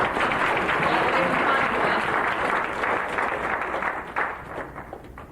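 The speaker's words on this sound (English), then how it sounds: "We might want to give Galileo a round of applause." A crowd claps enthusiastically in sustained applause, dense and loud at first, then gradually thinning and fading toward the end.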